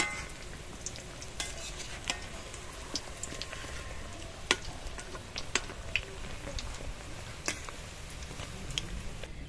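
Semolina biscuits frying in oil over a low flame, giving a steady soft sizzle with occasional light clicks and pops, fairly quiet and continuous with no talking.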